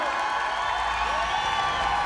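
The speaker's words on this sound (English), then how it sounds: "Let's give a big round of applause to Joe Warren, ladies and gentlemen." Crowd at a Bellator 27 mixed martial arts event applauding and cheering for Joe Warren, a steady loud wash of clapping and voices filling the arena with no break.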